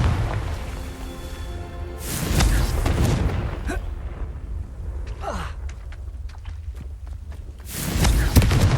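Booming Confringo blasting-spell explosions from Hogwarts Legacy hit twice, a heavy broadband burst early and another near the end, with crackling debris and scattered sharp ticks between them over a steady low rumble.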